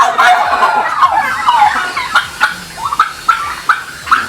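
Farm turkeys gobbling in a pen, a run of loud, close warbling gobbles repeating every half second or so, alone without talk.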